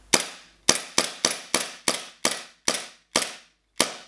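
A WE M92 gas blowback airsoft pistol fires about ten sharp, close cracks in quick succession, each with a short metallic tail. The spacing is fairly even, with one slightly longer gap near the end.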